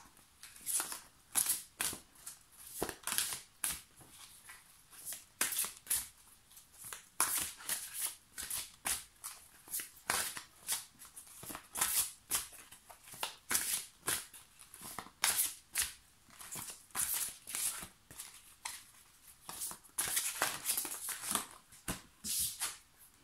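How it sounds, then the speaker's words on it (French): Ganesh oracle cards being shuffled by hand in steady, repeated riffling bursts that run continuously, close and fairly soft, with no talk. "je vais vous faire le tirage avec l'oracle de Ganesh du coup"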